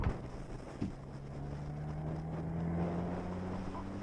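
Open-wheel race cars lapping Silverstone circuit make a steady, distant engine drone that swells slightly, with wind noise across the microphone.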